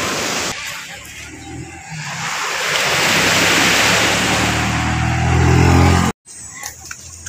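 Ocean waves roll onto the shore at Malita, Davao Occidental, forming a broad, loud wash of surf that swells and builds to a peak, with gusts of wind buffeting the microphone.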